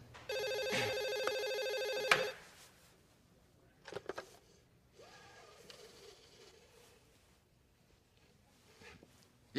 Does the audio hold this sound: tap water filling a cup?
no